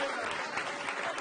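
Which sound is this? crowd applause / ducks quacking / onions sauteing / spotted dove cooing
crowd applause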